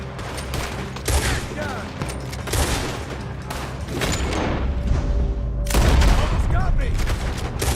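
Sustained bursts of gunfire in Red Dead Redemption 2, a steady fusillade of shots with booming thuds under excited shouting voices throughout, growing louder near the end.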